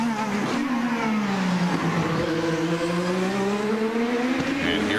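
An IndyCar race car at Long Beach weaving to warm its tires, the engine note droning loud and continuous and rising and falling in pitch as it moves, with race commentary over it.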